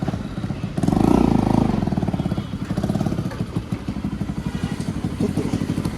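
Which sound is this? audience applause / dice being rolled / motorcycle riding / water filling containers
motorcycle riding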